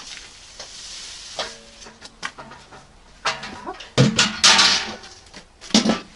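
Dry grain for homemade rabbit feed pours and rattles into a container in several bursts, the loudest rushing spill near the end, with scattered clatter between pours.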